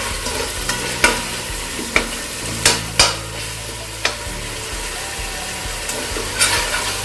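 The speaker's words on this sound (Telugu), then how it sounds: "ఉల్లిపాయలు చక్కగా ఫ్రై అవుతాయండి కొంచెం ఉప్పు వేస్తే" Onions fry in oil with salt in a pan for coconut rice, a constant close sizzle punctuated by several sharp spoon scrapes and taps against the metal.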